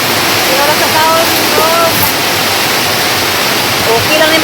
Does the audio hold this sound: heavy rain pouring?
yes